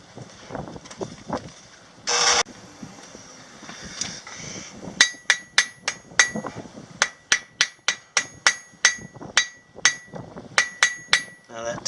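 A hammer strikes hot steel on an anvil, drawing out a taper during blacksmith forging of a small leaf keychain. After a few scattered blows and a brief hiss, a steady run of sharp ringing strikes follows at an even rhythm, close and loud.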